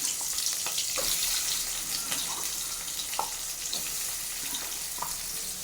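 Onions sizzle in hot groundnut oil in a pan for chicken curry, a steady close hiss with small pops and crackles and no talking.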